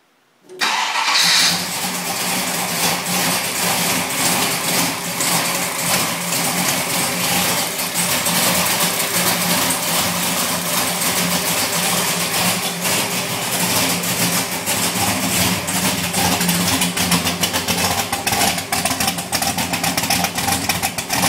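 A 572 Hemi V8 cranks and fires on its first start, then holds a loud, steady, rough idle that stays close and unbroken for about twenty seconds.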